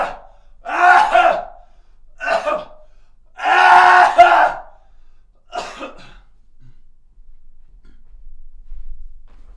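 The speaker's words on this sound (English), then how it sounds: "I'm gonna get off camera to just clear my throat here for a second." A person coughs and clears their throat in several harsh, separate bursts spread over a few seconds, loud and close, followed by near silence with faint low background noise.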